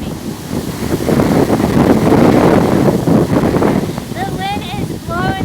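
Strong wind roaring and buffeting the microphone at an overgrown cemetery, a loud continuous rush that masks a voice talking underneath.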